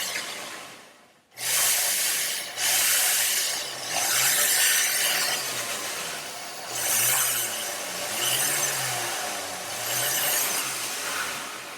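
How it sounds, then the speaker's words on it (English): A hand-held rotary tool grinds the edge of a kiln-fired copper enamel button, back to a shiny copper surface. A steady abrasive whir with a low motor hum runs close and loud through the whole stretch, briefly pausing near the start. "I just grind this with my tool"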